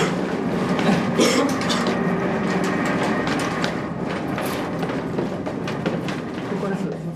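Tokyo subway train on the line still contaminated with sarin during the 1995 attack, a steady loud rumble with rattling carriage noise and some clacking, constant throughout with faint voices mixed in.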